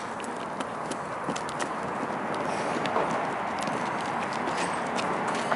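Pinto mare walking, a steady rhythmic clip-clop of hooves over constant outdoor background noise, moderately close.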